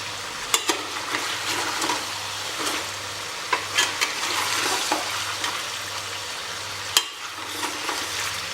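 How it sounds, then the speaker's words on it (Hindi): Mutton coated in garlic ginger paste frying in a pot, a steady sizzle broken by scraping stirs and occasional clanks of the spoon, close and moderately loud with no talking. "हमने इस मीट को भी, जिसके अंदर लहसुन अदरक का पेस्ट डला हुआ है, इसे भी 2 बार बढ़िया भून लिया है।"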